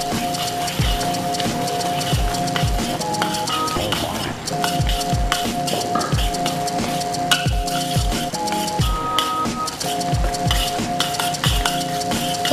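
Steady sizzling of chopped chilies frying in a pan with repeated scraping and stirring strokes of a utensil, continuous and close.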